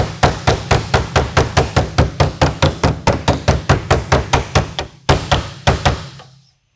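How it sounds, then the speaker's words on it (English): Steel body hammer tapping out small dents in a car panel, a rapid, even series of about two dozen sharp metallic taps, loud and close, pausing briefly before a few final strikes that ring out into silence. "with this hammer, you make more small dent"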